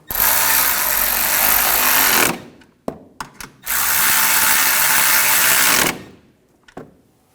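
A ratchet tightens nuts on the windshield washer reservoir of a 2011–2018 Volkswagen Jetta TDI wagon. Two long, loud, rapid clicking runs of about two seconds each are split by a few separate clicks and knocks, close up with no voices.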